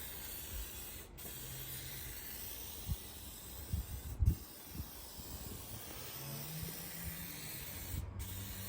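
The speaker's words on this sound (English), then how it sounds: "we'll go over it again with like a mist coat over the top, see if it makes it less swipey" Spray gun misting clear coat onto a car parked in the street, a steady soft hiss in bursts with brief pauses, plus occasional low thumps and handling noises nearby.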